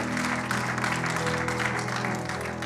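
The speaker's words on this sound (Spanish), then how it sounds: "Denle ese aplauso fuerte a Cristo," A church congregation claps steadily and densely for nearly three seconds. The applause is moderately loud, with no voice heard over it.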